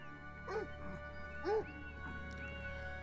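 A dog in the video game Beyond Eyes gives two short barks, moderately distant, over a quiet ambient hum of game music.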